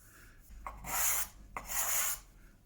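A card scraper drags across wood in two close, rasping strokes about a second long each, peeling off shavings.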